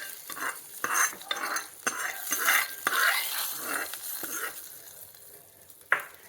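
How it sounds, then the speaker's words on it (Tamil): A pepper and cumin tempering is poured into Kanchipuram idli batter and worked in, giving a near, hissing sizzle broken by irregular spoon scrapes and stirs, then a sharp clink at the end. "இதை தாளித்து வச்சுருக்கிறேன் நல்ல மிளகு ஜீரகத்தை இந்த மாவில் விட்டுடலாம்."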